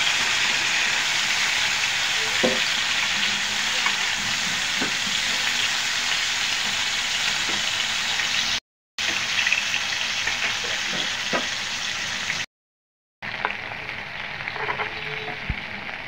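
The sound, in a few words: fish frying in oil in a pan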